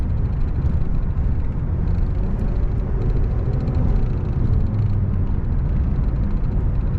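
Steady low engine and road rumble from inside a Kia turbo car on a test drive, with a turbo fault showing code P2562 and no power; constant and fairly loud throughout, with no speech.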